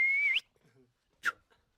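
A person in the Mustang region of the Himalaya gives a short, steady, high whistle that rises at the end to signal a horse to stop, followed by faint mouth sounds and a brief sharp click.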